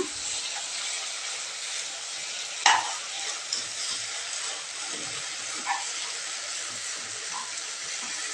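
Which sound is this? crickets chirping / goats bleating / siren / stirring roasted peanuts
stirring roasted peanuts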